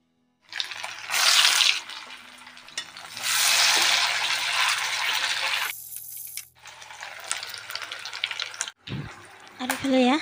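Battered egg chops go into hot oil and fry with a bright, crackling sizzle that swells and fades in bursts, broken by short pauses and a few handling knocks close by.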